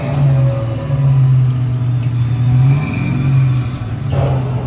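A haunted car prop in the Poltergeist ride queue at Six Flags Fiesta Texas comes alive with engine revving, a loud, close, droning hum that swells and dips in waves.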